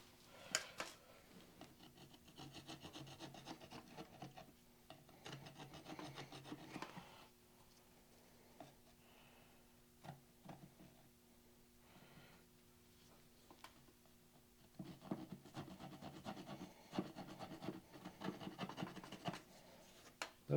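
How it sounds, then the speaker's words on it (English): A hand rasp files wood on an axe in a workshop, coarse scraping strokes coming in bursts with quieter pauses between, close and moderately loud with no talking. "Let's use this rasp."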